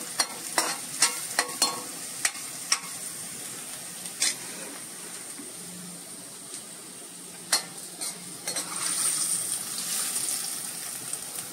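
Garlic frying in hot tempering oil for a whole masoor dal dish, a soft continuous sizzle broken by sharp stirring taps and clinks, growing louder toward the end.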